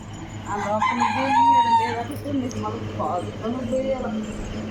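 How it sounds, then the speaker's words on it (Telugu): A rooster crows loudly nearby, its long drawn-out call rising over a busy background, with voices talking throughout. "మీకు మన ఇంట్లో కూత పెడుతుంది ఏ కోడి అనుకుంటున్నారు"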